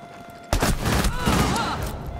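Gunfire in the tactical shooter Rainbow Six Siege, on the Chalet map: a burst of loud, close rapid shots erupts over low background noise and carries on as a dense barrage.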